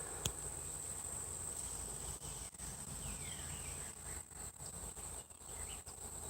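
Insects drone in a constant high-pitched buzz in the woods, with faint bird calls now and then, steady and fairly quiet throughout.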